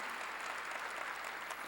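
Congregation in a church service applauding together, a dense, even wash of many hands clapping at steady volume throughout, slightly distant in a large hall.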